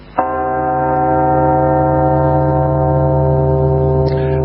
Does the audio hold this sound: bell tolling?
yes